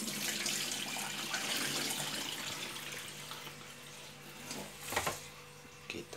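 Water pours steadily into a pot of rice being washed while cooking soft, tender rice, a continuous close splashing rush that swells briefly near the end.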